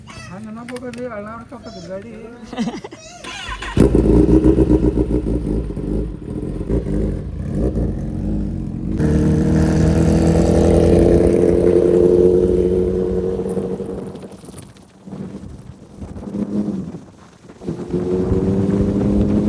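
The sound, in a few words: Kawasaki ZX-10R superbike engine revving while riding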